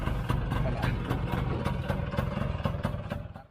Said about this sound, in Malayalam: നമ്മള് ബൈക്ക് സ്റ്റാർട്ട് ചെയ്യുന്ന പോലെ നമ്മുടെ കാർ സ്റ്റാർട്ട് ചെയ്യാം